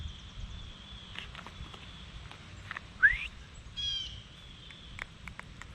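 A falconer's short, sharp rising training whistle for a bird of prey cuts through quiet outdoor ambience with faint bird chirps, followed by a brief warbling trill a moment later.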